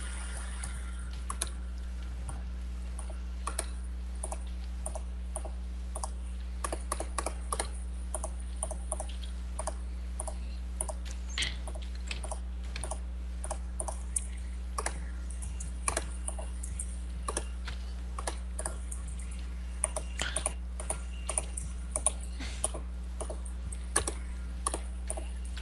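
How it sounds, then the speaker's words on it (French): Rapid, irregular clicks of typing on a computer keyboard at a Minecraft gaming session, sounding close and fairly crisp over a steady low hum, with no talking. "tu pioches sur ton clavier, c'est n'importe quoi. On l'entend tout."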